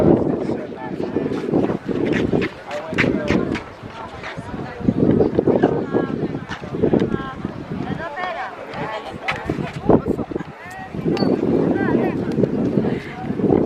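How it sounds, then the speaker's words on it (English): Heavy wind buffets the microphone in gusty rumbling bursts while people talk throughout, in Victoria during a Caribbean Princess cruise. "It's really windy today."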